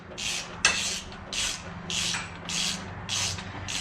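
A 24 mm wrench works loose the fork cap on a KTM 950 motorcycle, giving repeated rhythmic scraping, rasping strokes about every half second, close and clear with no talk.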